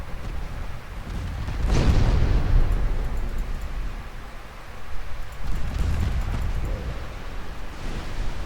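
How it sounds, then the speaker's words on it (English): Torpedo hits detonate in the Ultimate Admiral Dreadnoughts naval battle game, with heavy rumbling booms swelling twice over a constant roar of sea and wind, and no talk. "look at all those torpedo hits that the AI gets"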